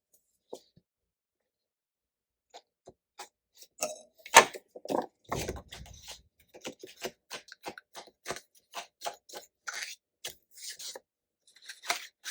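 Scissors trim excess paper from a Happy Planner kids' section, a series of close, crisp snips and paper rustles spaced irregularly against quiet background.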